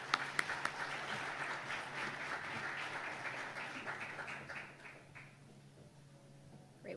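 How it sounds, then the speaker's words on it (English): An audience applauds as a doctor is invited up to give a medical talk, a dense burst of clapping with a few sharp claps at the start that holds steady, then thins and fades toward the end. "Let's give her applause"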